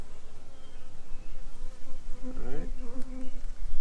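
Honey bees buzz around an opened hive, a steady droning hum with some individual bees passing close by, while a person speaks briefly.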